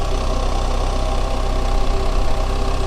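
A 2024 BMW 1300GS motorcycle engine idles steadily just after starting, a loud, close, continuous mechanical drone with a slightly knocking texture and no voices.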